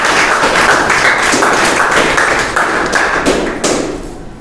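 An audience at a school Constitution Day event applauds after a speech, a dense, steady wash of many hands clapping up close that thins out and fades toward the end.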